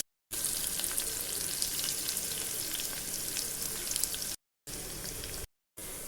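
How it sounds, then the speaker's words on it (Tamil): Sliced large onion sautéing in a pan for a Tamil pulicha keerai and pavakkai thokku, a steady close sizzle of frying with faint crackles, broken by two short silent cuts near the end. "ஒரு பெரிய வெங்காயத்தை நீளமாக பொடிசாக அரிஞ்சு சேர்த்துக்குவோம். வெங்காயம் பொன்னிறம் வர அளவுக்கு வதக்கி எடுத்துக்குவோம்."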